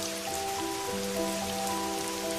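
Steady rain falls on a surface in a continuous, even hiss with soft patter, while faint sustained tones hum underneath throughout.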